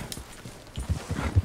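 A horse's hooves clip-clop in Red Dead Redemption 2, a quick run of soft, uneven thuds that grow more distinct toward the end.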